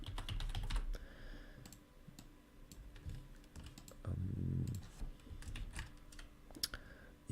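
Code is typed on a computer keyboard in quick, close-up bursts of clicking keystrokes, with short pauses between them and a few heavier presses.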